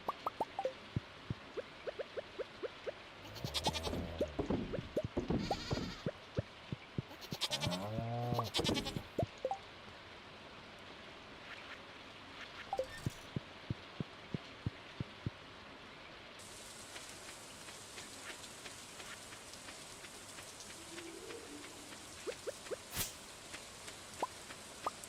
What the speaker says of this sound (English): it gets a little crowded in here with all these animals in the rain